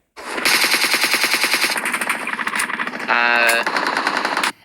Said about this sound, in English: there's an enemy that's over here that's shooting at me